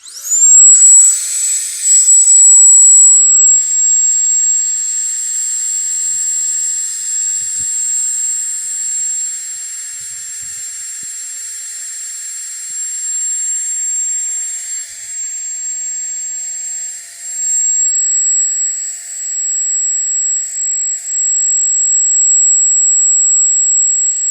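An Etenwolf Air 3 electric air pump runs with a steady, loud high-pitched whine that holds for the whole stretch, rising briefly at the start and dipping slightly at moments.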